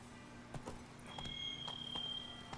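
A horse's hooves clip-clop at a steady trot on a road in The Witcher 3: Wild Hunt, with regular moderate thuds over game ambience and a sustained high tone in the background.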